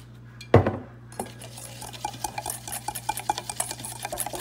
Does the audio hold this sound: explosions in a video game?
no